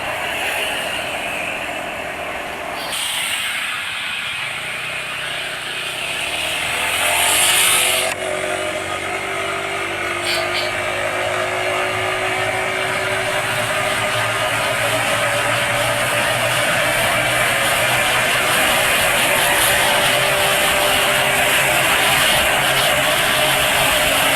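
A car engine running on Pertamina Diloka oil holds a steady mid-RPM drone, loud and close, with a brief swell early on before settling into a constant, even hum.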